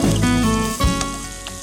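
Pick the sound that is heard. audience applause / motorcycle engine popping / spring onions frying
spring onions frying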